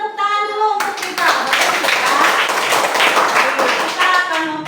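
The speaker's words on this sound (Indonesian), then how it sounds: "tepuk tangan dulu untuk kita" A classroom of students claps their hands together, a brisk burst of applause that starts abruptly after a brief voice and continues steadily for several seconds.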